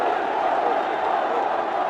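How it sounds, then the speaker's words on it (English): Crowd at a Ranji Trophy cricket match between Delhi and Railways, roaring after a wicket, a dense, continuous wall of noise held at the same loud level from start to finish. "The crowd is obviously roaring."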